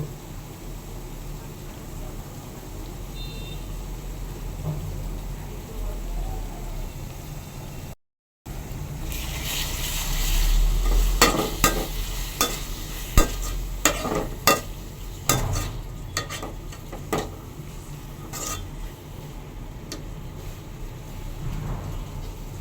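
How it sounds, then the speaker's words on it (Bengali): Onion paste and eggs frying in a pan for Bengali egg korma, with a steady sizzle and scattered scraping, clattering stirring strokes that grow busier after a brief gap. "ভালো করে কষিয়ে নেব"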